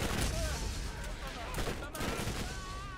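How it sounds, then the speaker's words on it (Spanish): Gunfire in the Borderlands video game, a dense fusillade of rapid shots and bursts crackling continuously at close range, loud and busy throughout. "¡Me están disparando!"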